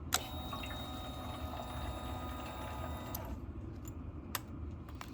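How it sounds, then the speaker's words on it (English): The fuel pump of a 2021 Yamaha XT250 motorcycle runs with a soft, steady whirring hum and faint liquid burble, cutting off partway through and leaving quieter background with a couple of small clicks. "That fuel pump sounds way cleaner."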